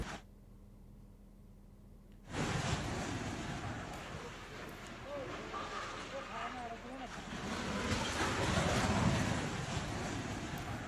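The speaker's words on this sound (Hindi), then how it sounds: "30 कमरों का ये मकान है मंडी में, जो भर भरा कर एक साथ नीचे गिर गया।" A 30-room house in Mandi collapses from land subsidence: a sudden, heavy rumbling crash bursts in after a quiet stretch and keeps roaring with debris noise, with voices faintly underneath.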